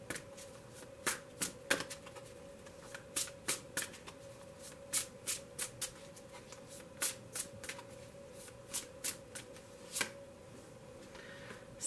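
A tarot card deck is riffled and shuffled in repeated quick bursts, each a crisp flutter of cards, close and clear against a steady low hum, with no speech.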